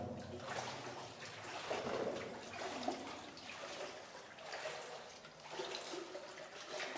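Water rushes and gurgles through the narrow rock-cut Hezekiah's Tunnel, the flow swelling and easing in uneven surges, close and steady with no voices.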